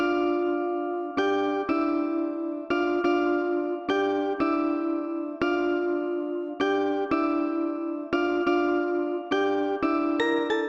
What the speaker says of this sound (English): So I added this other synth that's a little less harsh, but it gives it some body.